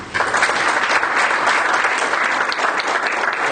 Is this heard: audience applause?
yes